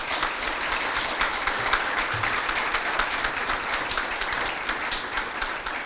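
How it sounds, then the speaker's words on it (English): Audience applause at an award ceremony for a town hall of fame, a steady patter of many hands clapping at moderate distance, sustained throughout with no talk over it. "Please join me in applauding Bob Van Scoik for receiving the Frank Clark Award."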